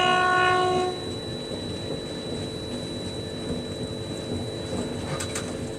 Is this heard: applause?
no